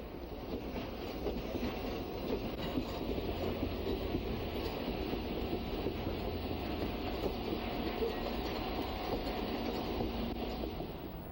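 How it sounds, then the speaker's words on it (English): The Union Pacific 3985 Challenger steam locomotive, converted to oil firing, backs its train into a track at an intermodal yard, a continuous heavy rolling rumble with clanking wheels that stays at a steady level throughout. "The train backs into a track in the intermodal yard after successfully negotiating the Y."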